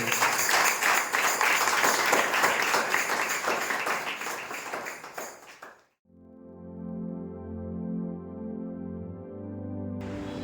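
A congregation at a Sunday church service claps loudly together in a dense, rapid burst that fades out after several seconds, followed by sustained musical tones.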